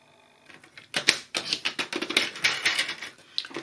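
Irregular close snips and crisp clicks of cutting material into pieces for a small box to hold Tombow glue, a quick run of sharp bursts after a quiet start.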